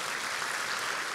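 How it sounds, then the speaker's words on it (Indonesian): Congregation applauding during a church service, a dense, even wash of clapping from many people, fairly faint and steady throughout, with no talk over it. "Beri sekali lagi tepuk tangan yang hebat."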